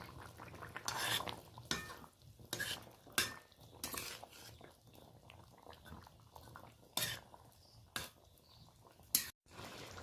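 Fried fish is stirred into an eggplant curry in a pan, with quiet ladle scrapes and metallic clinks in irregular bursts against a soft low sizzle and no talking.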